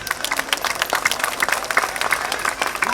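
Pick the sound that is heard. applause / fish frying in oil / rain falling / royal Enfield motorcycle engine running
applause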